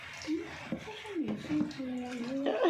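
Water sloshes and splashes as a baby boy is bathed, with a child's babbling and vocal sounds and adult voices over the steady watery wash.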